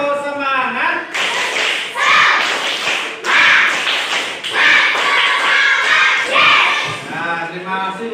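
Fifth-grade pupils repeat a rhythmic classroom spirit clap, a burst of sharp unison claps and thumps interleaved with loud chanting children's voices and a teacher speaking, close in a classroom.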